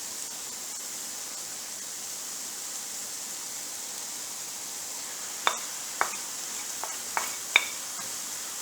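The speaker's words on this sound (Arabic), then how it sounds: "دابا غادي نزيد الكفته" Minced kefta meat dropped into a hot pan for a savory baklava filling, hissing with a steady soft sizzle, with a few sharp crackles and spatters near the end.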